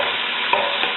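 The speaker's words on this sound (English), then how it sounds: "Now we're just going to stir them around and kind of get them coated with the butter." Onions and vegetables being stirred in hot butter in a pan give a steady, close crackling sizzle with a couple of faint scrapes from the stirring, and no one speaks.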